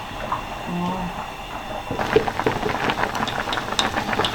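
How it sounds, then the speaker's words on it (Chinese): Braised beef sauce reduces over high heat, a rising sizzle and bubbling that grows busier halfway through, with brisk popping bursts close by over a low steady hum. "大火把那个汁给它收一下"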